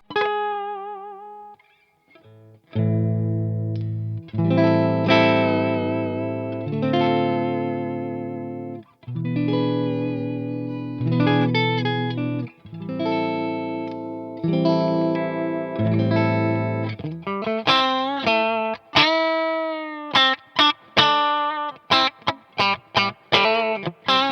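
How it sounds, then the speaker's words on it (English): Electric guitar notes from a sandblasted PRS SE CE24, bent with a wavering whammy-bar vibrato, played loud and continuous with effects, ending in a run of quick plucked stabs. "I'm gonna give it some tremolo or vibrato or whammy, whatever you want to call it."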